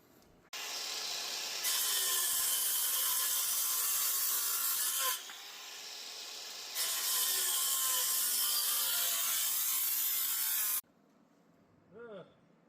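Loud, steady rasping of a tool cutting notches into wooden posts for a pole barn, running in two long passes with a brief dip between, then stopping. No talking.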